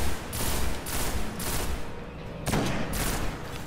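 Sidearm fire in a shooter video game comes as a rapid string of loud, close shots in regular bursts with brief gaps, continuing across the whole stretch without talk.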